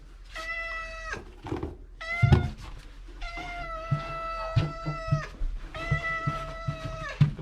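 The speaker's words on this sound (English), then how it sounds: "And the cat's trying to escape" A cat meows repeatedly and insistently up close aboard an Alaskan fishing boat, long drawn-out calls with a few soft thumps and knocks between them.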